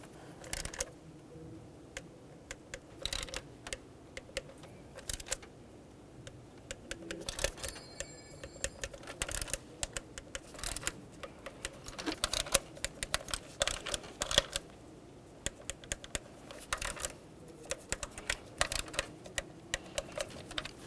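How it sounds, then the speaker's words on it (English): Torque wrench tightening valve cover bolts on a 2012-2018 Nissan Altima 2.5L, giving a long run of close, sharp ratcheting ticks and clicks in irregular bursts, with no talking. "For our first time around, we'll be torquing these to 17 inch-pounds."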